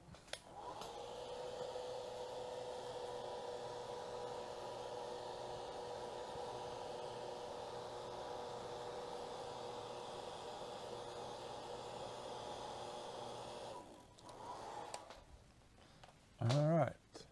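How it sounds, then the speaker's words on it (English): A hair blower runs steadily for about fourteen seconds, a loud continuous whooshing hum while paint dries on an N scale wargaming model's windshield, then cuts off, followed by a brief burst of a voice. "let's take a hair blower again"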